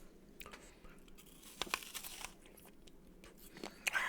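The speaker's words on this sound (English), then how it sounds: "Crunching a little apple here." Someone bites into a small apple several times, up close, with crisp but fairly quiet crunches and chewing in an otherwise still room.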